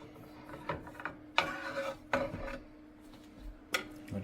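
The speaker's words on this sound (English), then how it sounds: "Let's cut a slice." A knife saws through a loaf of homemade sweet bread on a board, soft scraping strokes with a few sharper knocks and taps, close and quiet.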